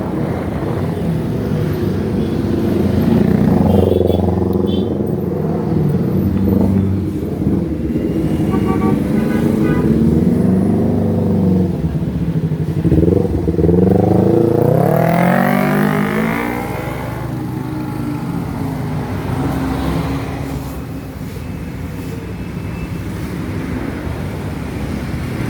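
Congested road traffic in Sukabumi on the Cicantayan–Segog–Karangtengah route, cars and motorcycles idling and revving close by, with engines swelling and passing and a continuous roadway rumble throughout.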